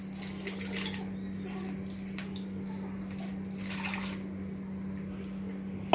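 Liquid poured gradually into a fenugreek leaf and green pea cream curry, a soft continuous trickling and splashing over a steady low hum, close and fairly quiet.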